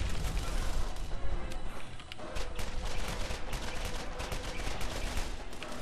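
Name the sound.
repeater gun shooting in the video game Borderlands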